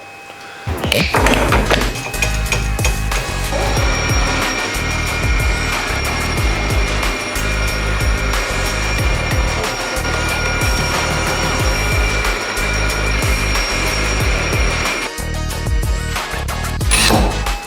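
A loud, sustained drill whine with a steady pitch grinds on for about fourteen seconds while drilling holes in metal, marked by repeated thumps and knocks, starting and stopping abruptly.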